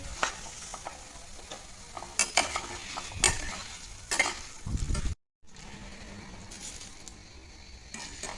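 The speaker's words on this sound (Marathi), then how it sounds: "पोहे पण तळून घेतले हे अजून थोडेसे घेतले तळून" Poha flattened rice frying in oil for chivda, a soft sizzle under sharp clinks and scrapes of a spoon against the pan, close and moderate, broken by a brief silent gap.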